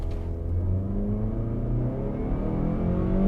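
A 2023 Mazda CX-50 accelerates hard, its engine note climbing, pausing through a slow gear change, then pulling upward again as a steady close drone inside the cabin.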